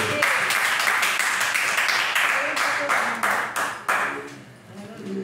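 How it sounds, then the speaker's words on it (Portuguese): A church congregation applauding during a Portuguese-language worship service: loud, sustained clapping with sharp individual claps on top, thinning and fading toward the end. "Dê um aplauso para o nosso Deus."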